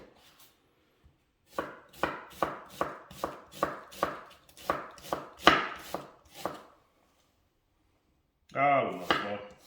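Knife chopping a large onion on a board, about a dozen close, evenly spaced thuds in a quick rhythm, then a brief pause and a final burst of cutting.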